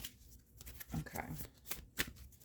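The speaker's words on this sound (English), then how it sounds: "Let me give this deck a quick shuffle" A tarot card deck is shuffled by hand during a reading, producing close, rapid riffling and flicking bursts of card noise over a couple of seconds, with a voice speaking quietly alongside.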